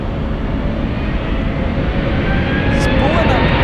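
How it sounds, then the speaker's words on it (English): A Delta jet airliner spools up its engines at San Francisco International Airport: a steady, loud broadband roar holds throughout the short stretch, building slightly toward the end. "Delta about to go. I'm hearing it spool its engines."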